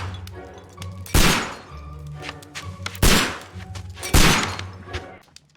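Gunshots fired at vases in a Sherlock Holmes video game, three sharp loud blasts spaced about a second apart over a quiet musical background, each followed by a short decaying crash.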